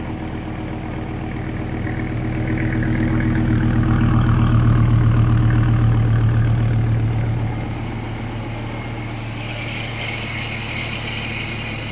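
A ProCharger F1X Gen 5 Viper, a roughly 1000 wheel-horsepower build, idles at a traffic light with a deep, lumpy rumble that grows louder in the middle, then settles back to a steady idle.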